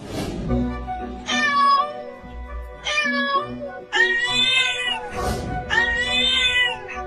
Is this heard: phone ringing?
no